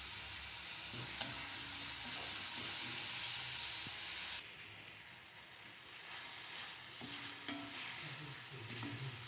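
Chopped tomato sizzles in a kadai as it is sautéed, a loud, dense frying hiss with intermittent stirring scrapes, dropping in level partway through then continuing steadily.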